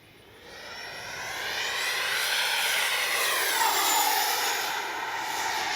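A radio-controlled model plane makes a fast, low pass down a runway, its engine whine swelling loud as it nears, peaking, then easing slightly as it moves off, with a clear rising and falling pitch sweep and no voices.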